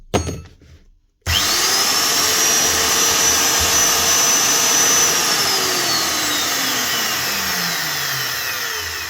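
A magnetic drill's motor starts after a brief clatter, then runs at a loud, steady whine close by, with its pitch sliding down slightly near the end, with no talking.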